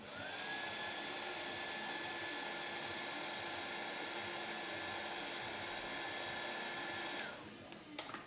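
A hot air tool heats a thermo lock on a ring clamp, giving a steady, close blowing roar with a faint whine that runs unbroken for about seven seconds before cutting off abruptly.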